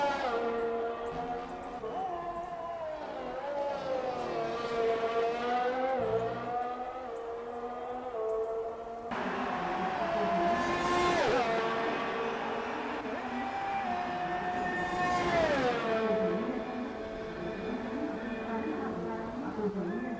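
Formula 1 race car engines in the F1 2018 video game, racing at Brazil, whine and rise in pitch through gear changes. A voice talks over the steady engine drone.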